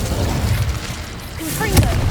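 An Incendio fire spell is cast in Hogwarts Legacy, with a short fiery burst and a sharp crack near the end over a rumbling background. A voice is heard briefly.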